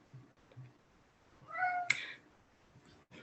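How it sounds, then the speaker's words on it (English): A pet cat gives a single clear meow near the middle of the recording, close and moderately loud, in a quiet indoor room with a few faint soft noises around it. "Sorry, I do have a cat if you hear him."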